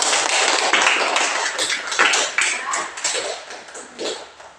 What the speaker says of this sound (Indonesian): beri tepuk tangan dulu kelompok 1